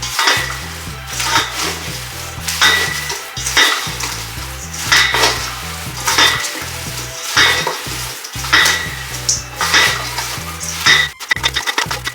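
Apple crisp mixture being stirred in a bowl gives a steady run of rhythmic scraping strokes, set against background music with a bouncing bass line.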